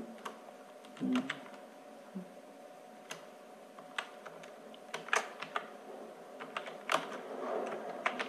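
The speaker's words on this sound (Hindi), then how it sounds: "अब विद्यार्थियों का नाम हम लोग टाइप कर लेते हैं" Student names are typed on a computer keyboard in a quiet room, with irregular bursts of close, crisp key clicks and taps, a few heavier thumps, and a faint steady hum underneath.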